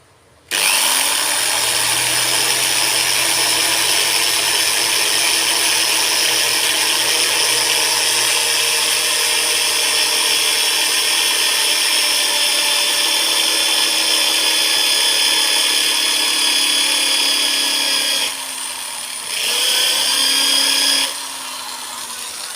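A power drill with a 4 mm bit bores the blowing hole in a Sundanese bamboo flute, a loud steady whine held close for about twenty seconds, dipping briefly before running on.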